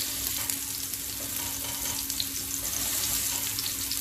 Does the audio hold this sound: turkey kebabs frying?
yes